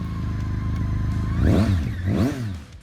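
A BMW K1600GTL motorcycle engine idles steadily, then revs hard twice in quick succession, each rise and fall sweeping up and back down, loud and close with no voices.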